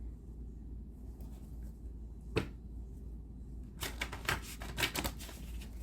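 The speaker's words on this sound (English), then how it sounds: "This deck is actually kind of difficult to shuffle just because the cards are so thin." A thin tarot card deck being shuffled, faint soft riffling and flicking with a brief snap midway and a livelier burst of card flutters near the end, close and quiet with no talking.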